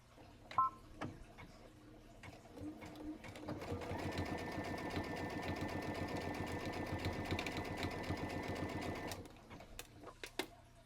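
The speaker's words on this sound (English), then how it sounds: "we're going to stitch this at 1/2 inch seam allowance. Back stitching at the beginning and at the end." A sewing machine runs a steady burst of about five seconds, stitching a dress bodice seam at a half-inch seam allowance with backstitching, bracketed by quiet clicks and fabric handling before and after.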